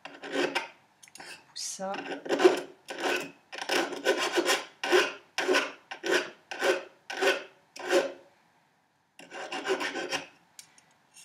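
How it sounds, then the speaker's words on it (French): A hand file rasps back and forth over metal being prepared for soldering, with about a dozen steady rhythmic strokes, close and clear, then a pause and one more short run; a voice says a single word. "pour pouvoir donc faciliter la soudure, c'est de reprendre la lime"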